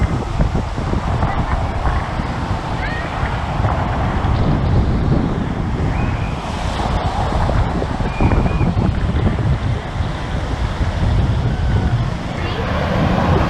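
Strong wind buffets the microphone atop a water park slide tower at Coco Key Resort, a steady, loud roaring rumble that lasts throughout, with faint voices in the background.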